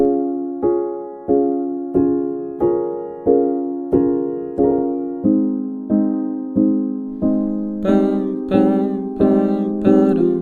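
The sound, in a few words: piano intro played on keyboard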